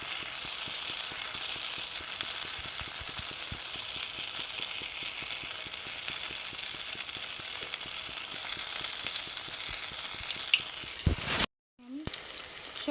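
Stuffed teasel gourd fritters (bora) frying in hot oil on a gas stove, a dense continuous sizzle with crackling, briefly interrupted near the end by a short clatter.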